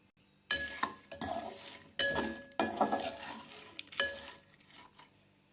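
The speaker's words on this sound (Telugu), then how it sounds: "పిండేసి మంచిగా కలిపేసుకోవాలి." A spoon scrapes and clinks against a pot while lemon juice is stirred into flat bean (chikkudukaya) chutney, in several bursts of metallic stirring separated by short pauses, close and quiet with no talk.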